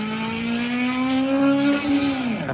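A Honda Civic in a racing simulator game drones at steady high revs, then the engine pitch dips as it lets off, close and continuous with a faint tire hiss.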